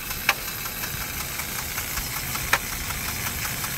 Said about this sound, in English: to me it sounds like there's something jammed up in the piston chamber